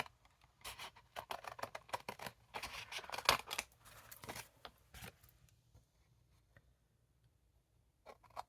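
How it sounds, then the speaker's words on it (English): Quiet, irregular snips and rustles of scissors cutting around a paper image, close by, in a busy cluster that tapers off into near silence. "You're going to take your scissors and cut around the whole image"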